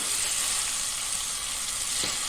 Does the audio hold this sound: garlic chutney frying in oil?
yes